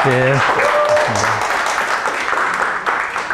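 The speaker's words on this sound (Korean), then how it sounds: "강사님을 박수로 모셔주시면 감사하겠습니다" An audience at a monthly union education session applauds to welcome a lecturer, clapping running under a voice and music-like tones at the start, then continuing as a steady moderate wash.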